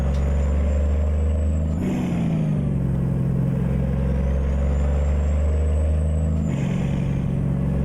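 Cummins N14 diesel engine in a truck in American Truck Simulator, droning steadily with a deep, loud hum that shifts pitch twice as it changes gear, with a faint high whine over it.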